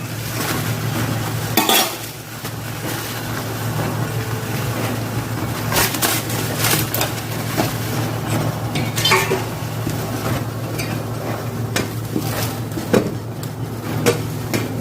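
Taro stolons and shrimp frying in a pan over a gas flame, a continuous sizzle under repeated clanking and scraping of a utensil against the pan, with sharp knocks at irregular intervals, close and fairly loud.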